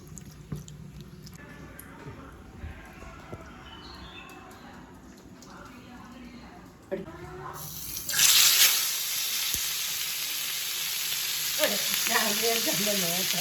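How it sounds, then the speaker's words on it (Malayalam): Sardines frying in coconut oil with a steady hiss that turns to a loud, bright sizzle partway through, continuing under faint kitchen clatter and background voices. "അതായാ മത്തി പതക്കുന്നുണ്ട്"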